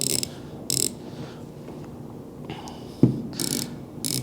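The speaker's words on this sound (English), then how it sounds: "now you hear the clicks, you know you're in the right spot." A Tridos TDC 2.0 Pro wheel is screwed into a Tokyo Marui VSR One airsoft rifle, giving a sharp mechanical click at mid-clip among a few brief ratcheting bursts and soft handling noise, close up with no talk.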